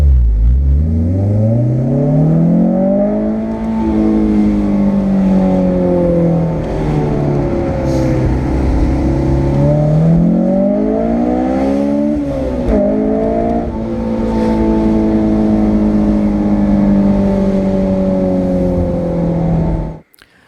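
A Honda S2000 engine revs hard and loudly for a sustained stretch, climbing toward high RPM with a sharp, rising wail, dipping and climbing again before it cuts off abruptly.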